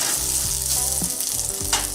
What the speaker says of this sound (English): Keep heating up the pork while stirring it around in that oil